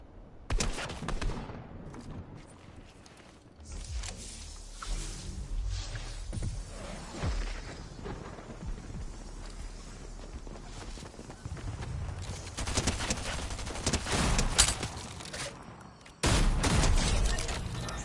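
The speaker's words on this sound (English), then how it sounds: "That's how you use one of them shotguns, mate." Shotgun blasts in Fortnite Team Rumble, loud bursts of game gunfire scattered through a busy stretch of action, with the heaviest shots clustered near the end.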